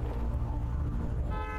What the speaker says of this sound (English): It honked before it runs me over.